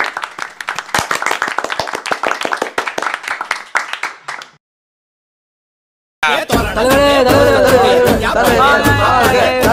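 A crowd claps loudly in a dense burst for about four and a half seconds at a mock political campaign rally, then falls silent before loud music starts.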